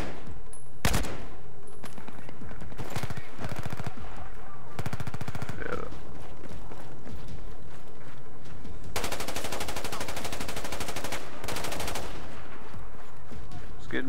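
Bursts of automatic gunfire from the shooter game Battlefield 4, loud rapid rattling volleys repeating in several clusters with short pauses between, the longest stretch lasting a few seconds near the end.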